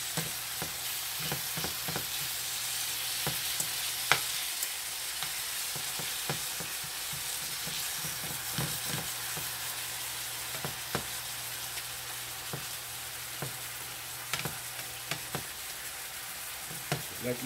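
Chicken cooks in a pan with a constant sizzling hiss, broken by scattered light crackles and occasional utensil taps, heard close with no talking.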